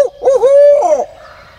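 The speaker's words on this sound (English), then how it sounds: "We still got a bird gobbling back here." A wild turkey gobbling during a spring turkey hunt, a single loud, close rolling call of about a second that trails off into quiet outdoor air, with no talking over it.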